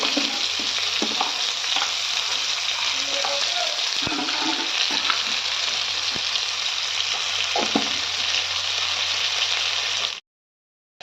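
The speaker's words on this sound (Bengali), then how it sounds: "এবার আমি এটাকে নাড়িয়ে নেবো ভালো করে। আলুটা লাল লাল করে রাখবো।" Potatoes frying in a pan, a loud continuous sizzle with scattered scraping stirs and clinks of a spatula, close up, ending abruptly.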